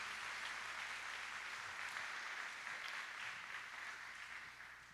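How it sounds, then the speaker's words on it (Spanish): Sustained applause from a church congregation during a Spanish-language sermon, a steady dense wash of many hands clapping at even loudness throughout, fading slightly at the end, with no talking over it. "démosle un aplauso fuerte al Espíritu Santo en esta."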